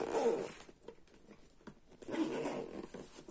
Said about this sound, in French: vous voyez, les fermetures éclair ici, comme ça